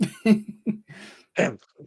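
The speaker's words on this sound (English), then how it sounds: "having a slight coughing fit" A short coughing fit: several harsh, throaty coughs in quick bursts with brief pauses between, close and fairly loud.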